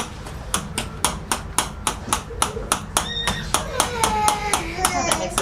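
Delft clay is chopped for sand casting, a regular series of sharp, hard chopping strikes at about two per second, heard under people talking.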